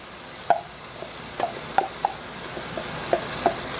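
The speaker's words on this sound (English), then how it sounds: "now I'm going to saute my onion" Onion and mushrooms sautéing in a pan for stuffed meatloaf: a steady soft sizzle with scattered utensil clicks and scrapes as the pan is stirred, fairly quiet and close, no talking.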